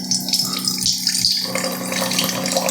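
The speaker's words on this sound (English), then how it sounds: "So I'm going to run some cold water." Cold water runs from a kitchen tap through a Waterdrop RO A1 reverse osmosis filter, a steady, loud, close rushing flow with a faint underlying hum and no talking.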